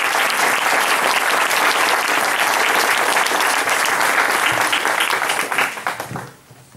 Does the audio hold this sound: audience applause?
yes